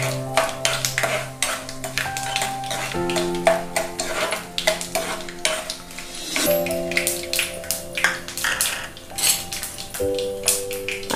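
Cashews fry in plenty of oil in a pan for upma, a soft sizzle with frequent stirring scrapes and utensil clinks, set under steady background music.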